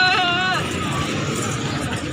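A black Barbari goat bleats once with a wavering, nasal cry at the Lalukhet goat market in Karachi, loud and close over a steady hubbub of crowd chatter and market noise.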